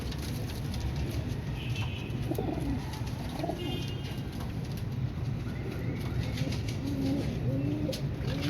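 Pigeons of a dark red-eyed breed coo softly and repeatedly in a loft, their low throaty calls half-buried in a steady wash of background noise, with occasional faint wing flutters.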